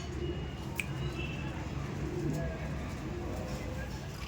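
Pigeons of an Andhra breed kept in a loft with nesting boxes give low, soft cooing under steady background hiss, with one brief sharper sound near the start.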